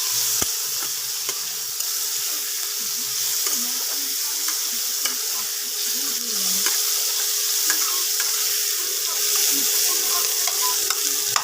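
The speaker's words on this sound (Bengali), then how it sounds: "পেঁয়াজ আর টমেটোটা একটু ভেজে দেবো" Onions and tomatoes fry in a pan for Bengali khichuri, a steady close sizzle that runs unbroken, with faint scrapes of stirring.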